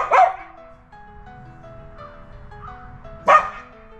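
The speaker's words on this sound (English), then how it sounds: "I heard a little bark outside" Two short, sharp dog barks outdoors, one at the start and another about three seconds later, sounding somewhat distant over a quiet low hum.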